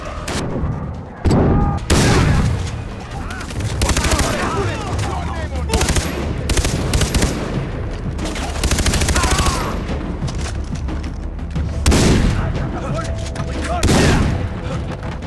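Video game gunfire in Black Ops 2 during an assault on a pirate outpost: continuous loud automatic fire with repeated heavy booms and bursts, joined by a voice speaking at times.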